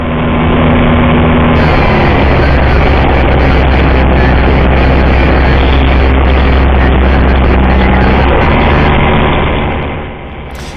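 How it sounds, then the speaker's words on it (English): An FMS 1400mm P-40 RC model warbird comes in to land, its electric motor giving a loud, close, steady buzzing drone that holds for most of the stretch, with a higher whine stuttering in and out before it all fades at the end. "P-40 is over the top and coming in for landing on runway 18."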